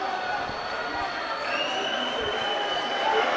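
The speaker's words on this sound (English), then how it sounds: "you can still hear the crowd buzzing from that missed dunk" Basketball arena crowd at a FIBA AfroBasket pre-qualifier game between Kenya and Burundi, buzzing after a missed dunk: a steady, dense murmur of many voices with a faint whistle-like tone rising midway and no single clear voice on top.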